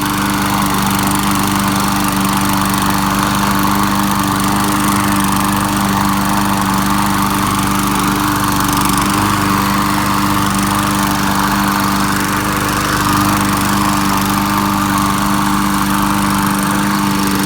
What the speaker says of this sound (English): we'll do some quick mowing with it